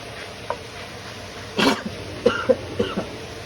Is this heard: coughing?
yes